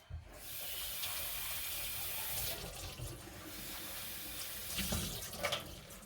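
Greens being rinsed under a running kitchen tap, a steady hiss of flowing water splashing into a sink, fairly faint and continuous with brief surges near the end.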